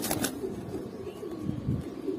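Domestic racing pigeons, Jhuma Pankhi, red-footed Hammer and Super Mili breeds, cooing softly in a loft, low repeated coos over a steady background hum, with no talking.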